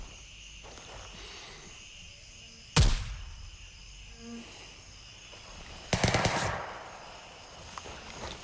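Gunfire in the video game Gray Zone Warfare: two sharp, loud bursts, one brief and one longer rattling volley, with a faint insect-like ambience between them.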